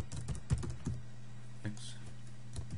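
Quiet typing on a computer keyboard, a handful of irregular close key clicks and taps in short bursts over faint room hum, with no speech.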